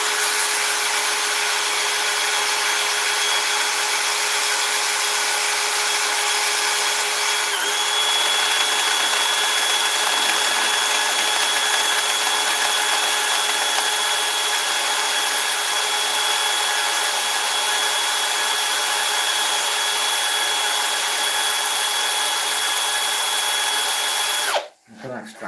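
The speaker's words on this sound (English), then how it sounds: "I'm sanding too fast. A lot of lathe spinning too quick." Ash wood being sanded on a fast-spinning wood lathe, a steady high-pitched whine with hissing abrasive rub that holds evenly for most of the clip before abruptly cutting off near the end.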